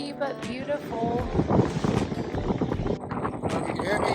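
Gusty wind at the top of Mossy Cave in Bryce Canyon buffets the microphone with loud rumbling roars while a person talks over it.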